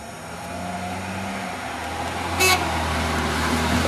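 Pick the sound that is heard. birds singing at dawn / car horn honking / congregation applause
car horn honking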